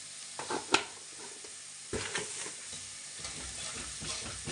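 A spoon stirs jaggery into roasted spices in a hot pan, soft scraping strokes over a faint sizzle, with a sharp clink early on and steady, close stirring afterward.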